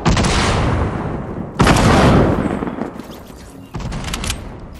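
Rocket explosions and bursts of gunfire in the Fortnite video game, with heavy booming blasts and dense crackling fire in three loud surges, close and continuous, with no speech.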